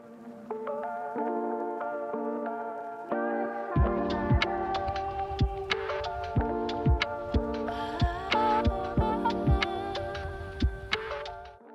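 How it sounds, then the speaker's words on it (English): A sewing machine zigzag-stitches the curved edges of small fabric pieces for a doll pinafore, heard as a rapid, regular mechanical ticking and thumping over a soft motor hum, starting after a quieter musical backdrop. "I'll zigzag the curved edges and secure the other two sides within the seam"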